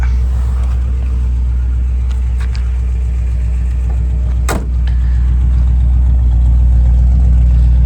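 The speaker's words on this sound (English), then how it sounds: "Nice V8 rumble, no smoke." A steady, deep V8 engine idle from a 1959 Rambler Rebel Custom Country Club Hardtop, with a low throbbing exhaust rumble, close and continuous, with no voices.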